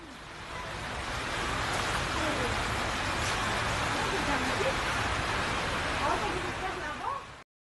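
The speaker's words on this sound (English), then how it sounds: "Rain poured 13 millimeters in Tel Aviv, 3 millimeters in Jerusalem, and 1 millimeter in Beersheba." Heavy rain pours during flooding in Rishon LeZion, Israel, making a dense, steady hiss that swells in at the start and runs evenly before cutting off.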